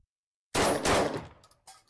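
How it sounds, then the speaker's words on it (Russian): Two rapid gunshots ring out in quick succession, loud and close, followed by a short echoing tail and a fainter third report after a brief silence. "это два выстрела"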